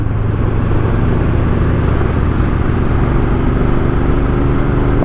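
A Royal Enfield Interceptor 650 motorcycle pulls up a climb at around 50, its engine a steady, loud drone blended with heavy wind rush, heard from the rider's position.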